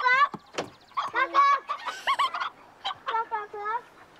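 A voice imitates chicken clucking in a close, fairly quiet series of choppy bok-bok calls and squawks with short gaps between them.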